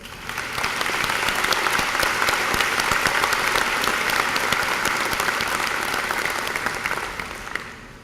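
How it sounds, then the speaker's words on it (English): Graduation audience at a high school ceremony applauding families, a full, steady round of many hands clapping that rises fast, stays loud for several seconds and fades toward the close. "Now please give your families a round of applause."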